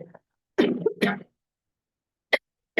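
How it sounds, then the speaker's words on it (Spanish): A woman coughs in a sick, hoarse way: one short cough, then two stronger coughs close together, followed after a pause by two brief faint bursts. "Perdón por la tos."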